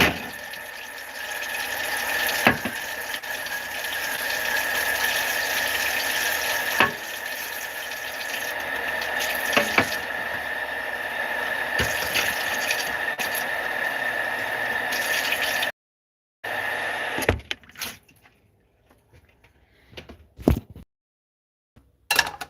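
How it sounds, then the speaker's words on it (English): A pan being washed under a running kitchen tap, a steady loud rush of water with clatter and knocks for about sixteen seconds, then the flow stops and only faint scattered clinks remain. "I'm gonna wash a pan. I don't know if you can hear me. Water is just always loud."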